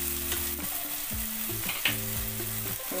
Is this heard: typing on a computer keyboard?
no